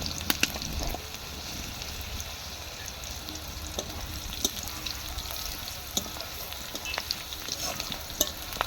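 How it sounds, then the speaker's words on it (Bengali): Green chillies, garlic and panch phoron fry in hot oil for Malabar spinach stems, giving a soft, continuous sizzle with scattered crackles and pops and a few faint clinks nearby. "কাঁচা লঙ্কা রসুন পাঁচ ফোড়ন দিয়ে পুঁই শাকের কাঁচা লঙ্কা তো একটু ফাটে"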